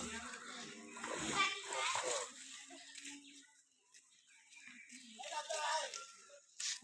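Children splashing in rainwater outdoors, wet slaps and sloshes mixed with excited kids' voices and an adult talking, loud bursts then quieter stretches.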